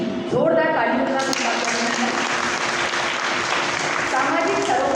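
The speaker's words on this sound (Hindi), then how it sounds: "जोरदार तालियों का" Loud, continuous applause from an audience at a literary award ceremony, sustained clapping filling the hall as an honoree is introduced, with a voice briefly audible beneath it.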